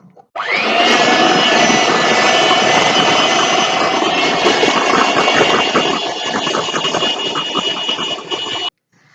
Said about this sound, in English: I'm going to beat it for at least 8 minutes in high speed.